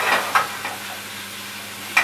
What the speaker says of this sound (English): You always need to hear that good sizzle.